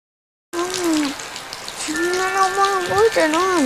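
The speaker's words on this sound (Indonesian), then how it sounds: "Melihat hujan begitu deras" Heavy rain pours steadily through a film scene, a dense hiss running throughout after a silent start, with voices talking over it.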